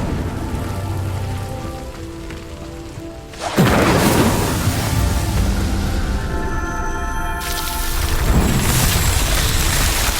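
Incendio fire spell cast in Hogwarts Legacy, a sudden loud whooshing burst that roars into a sustained crackling rush of flame, with a second swell near the end over steady rumbling ambience.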